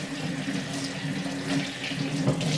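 Tap water runs steadily over frozen shrimp being rinsed in a kitchen sink, a continuous close splashing hiss with no talk over it.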